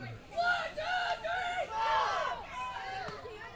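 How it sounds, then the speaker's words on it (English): Members of the softball team Glue cheer together at a softball world series, a loud group of whooping, chanting voices rising and falling in bursts. "So Glue has been cheering over here, getting themselves ready."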